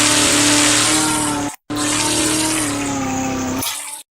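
A Cadillac GTP race car in Dealership Tycoon screams at high revs, a loud steady engine whine that cuts out briefly, returns with tire noise, then stops.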